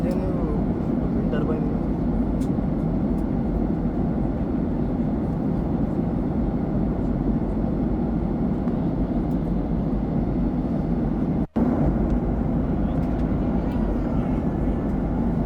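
A steady, even drone of a passenger jet cabin at cruising altitude on the Hyderabad–Kuala Lumpur flight runs continuously, broken by one brief dropout near the end.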